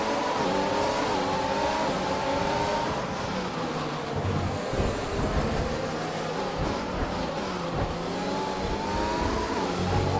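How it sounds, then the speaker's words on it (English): A Formula 1 car engine in the F1 2020 racing game, revving loudly with rising and falling pitch sweeps as it shifts through the gears, continuous and close with no talking. "We need to keep the engine cool though, so don't go too high with the revs."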